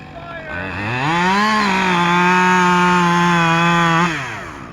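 Chainsaw with a long bar at a lumberjack show revs up, holds a steady loud whine for a couple of seconds, then drops off, close and dominant.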